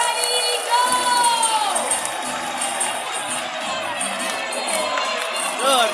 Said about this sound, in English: Now Barry supporters, you gotta cheer louder.